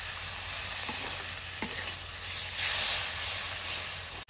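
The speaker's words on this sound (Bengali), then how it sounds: "এবার আমি সামান্য জল দিয়ে দিচ্ছি, মশলাটা কষাবো" Spice paste with chilli powder sautéing with a little added water in a pan for Bengali-style pav bhaji; a steady close hiss and sizzle with soft stirring scrapes and a brief louder steam burst.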